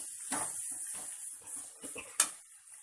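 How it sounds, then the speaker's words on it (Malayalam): Ginger garlic paste stirred in a kadai gives quiet scrapes and light clinks of a spoon against the pan, a few irregular strokes with one sharper knock near the end, and no talking. "ഇഞ്ചി വെളുത്തുള്ളി പേസ്റ്റ് ലേശം ഇളക്കി കൊടുക്കാം. നന്നായി ഇളക്കി കൊടുക്കാം."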